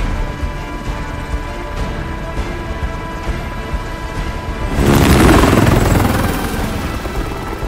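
Helicopter in Call of Duty: Modern Warfare gives a continuous rotor drone, joined midway by a loud crashing burst that swells and then fades back under the steady hum.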